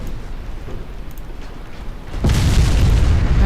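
Torpedo hits on a warship in a naval battle video game: a steady rumbling background that jumps into a loud, sustained low explosion roar partway through.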